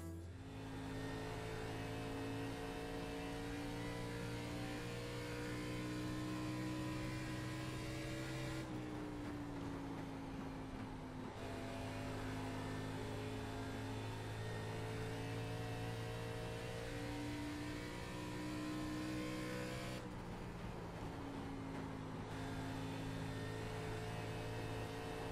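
A race car engine holds a steady drone through an oval lap in the iRacing sim, with the pitch easing down twice as the throttle lifts briefly and then rising again. It plays alone and continuously with no talk.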